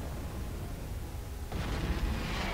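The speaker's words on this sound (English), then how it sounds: "Oh, explosion." Explosion in a Star Wars strategy video game: a low, rumbling broadband boom swells midway and holds through the end, over a steady low background roar.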